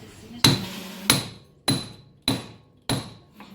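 A hammer taps a snap ring onto the CV shaft of a 2010 Yamaha Rhino side-by-side during a boot replacement: five sharp metallic strikes spaced about half a second apart, close and loud, each ringing briefly.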